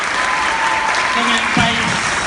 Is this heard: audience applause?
yes